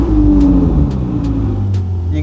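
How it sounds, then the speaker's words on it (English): A turbocharged 2016 Ferrari 488 GTB with active exhaust starts from cold, its deep, loud engine rumble filling the whole stretch steadily and close by. "They always snarl a bit when it's a cold start, like in this case"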